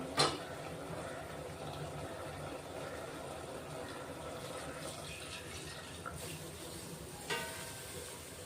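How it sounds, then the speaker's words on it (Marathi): Hot water is poured into a pot of village-style mutton curry with home-ground spices over a low-to-medium gas flame, a faint continuous trickle and splash with a couple of sharp utensil clinks. "ते गरम पाणी ओतून घेऊ."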